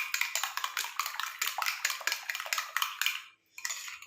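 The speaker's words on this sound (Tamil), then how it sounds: "நல்லா வந்து மிக்ஸ் பண்ணிக்கலாம். அப்போ தான் நல்லா இந்த லெமன் ஜூஸ் இதோட சேர்ந்து நல்லா மிக்ஸ் ஆகும்." A spoon mixes homemade cream with lemon juice in a bowl, making quick, rhythmic clinks and scrapes close up that stop briefly near the end.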